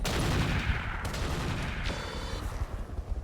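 Mech weapons fire in a RogueTech battle, all arms except the heavy laser, in a dense barrage of booming, crackling gunfire, with overlapping blasts and several distinct bursts across a few seconds.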